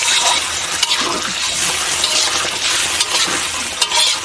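Water poured into a pan of frying chicken curry, a steady loud sizzle and hiss with bubbling and a few clinks of the pan throughout.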